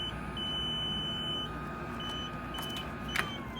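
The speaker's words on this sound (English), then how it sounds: "If there is an alarm, it will be because the battery was put in wrong, and it'll sound like this." A PAPR respirator unit sounds its alarm from a wrongly inserted battery: a steady high electronic tone with a brief beep burst, over a constant low fan hum, close and clear with no talking.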